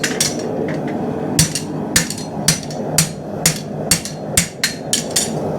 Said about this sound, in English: you flatten it out using overlapping hammer blows